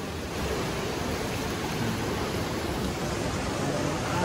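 A water fountain at a night market beside Al Ghurair splashes in a dense, steady rushing hiss, loud and close, continuous without breaks, with no clear voices.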